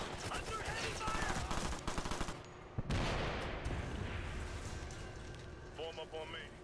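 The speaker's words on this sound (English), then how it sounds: "Under heavy fire" Heavy gunfire in Ghost Recon Future Soldier: dense bursts of automatic fire and rattling shots, loud and sustained, then a sharp blast and fading volleys, with voices talking over the battle.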